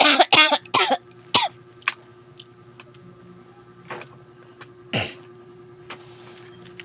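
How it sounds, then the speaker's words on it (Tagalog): Several sharp coughs and throat-clearing bursts from a person with a cough, clustered in the first second and then scattered singly over a quiet background hum. "May ubo ako."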